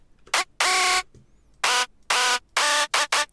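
A screaming hardstyle synth lead with a pitch envelope plays short, harsh, buzzing stabs in an uneven rhythm, loud and up front with silence between hits.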